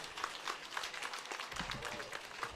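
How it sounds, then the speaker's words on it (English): Audience applause at an outdoor political party event in Uganda, a faint, distant, continuous smattering of clapping hands, steady with no clear voices over it. "may we give another round of applause to Dr. Tanga."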